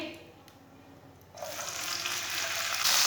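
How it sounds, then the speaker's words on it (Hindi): Onions browning in oil, stirred with a spoon. After a quiet start, a bright sizzle bursts in and keeps building louder toward the end. "सौंगी को थोड़ा सा ब्राउन कर लेंगे, ऐसे ऐसे चम्मच चलाते हुए ब्राउन करना।"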